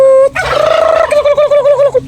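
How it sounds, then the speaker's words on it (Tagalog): Young Bourbon Red turkeys gobble loudly in a rapid, warbling chorus, the calls rising and falling in pulses for about two seconds, close by. "Natakot yung mga batang pabo mga kapatid, oh."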